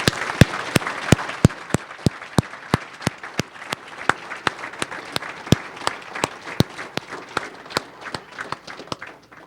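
Applause at a firefighter graduation ceremony for Eugene Springfield Fire's new class, with sharp, regular claps standing out over a steady crowd clapping wash throughout, loud and close.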